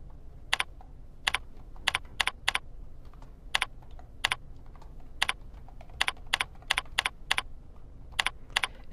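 Keys clack on a computer keyboard while a database name is entered, in short irregular bursts of crisp taps with pauses between, close and clear over a quiet room.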